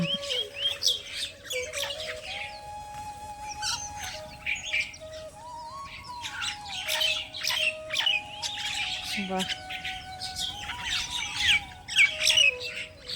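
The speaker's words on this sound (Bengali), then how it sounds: "শালিক খেতে দিয়েছে সব দল বেঁধে এসছে দেখুন ঝাঁক বেঁধে" A flock of mynas squawks and chatters in overlapping bursts, nearby and busy, over a faint steady tonal hum.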